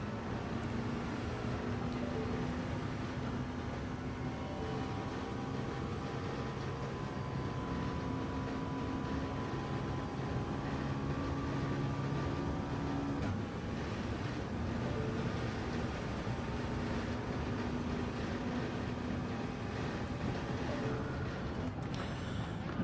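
Race car engines in Gran Turismo 7 at Circuit de la Sarthe, with a Ferrari and a Lexus among the field: a continuous steady engine drone with shifting pitched tones and occasional gear changes, heard faintly without talk.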